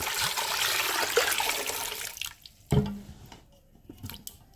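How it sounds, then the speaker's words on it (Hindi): Water is poured over sweet potatoes in a pressure cooker, a close gushing splash for about two seconds, followed by a short clunk and faint drips. "साथ ही हम पानी डाल देंगे"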